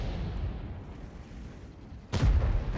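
A tank cannon fires in World of Tanks, a sudden loud boom after a stretch of low rumbling engine and ambient battle noise, with the blast ringing out to the end.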